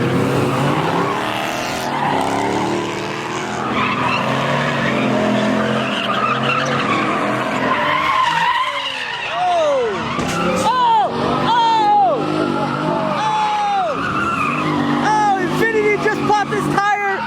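A street racing car loses control and crashes at a gathering in Anaheim, with engines roaring and tires squealing and skidding in repeated sharp sweeps. A crowd shouts and talks over the noise.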